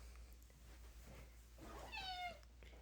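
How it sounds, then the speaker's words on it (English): A cat lets out a single short meow, close and clear, near the end, over a low steady background hum. "that's Skipper the Cat making a cameo"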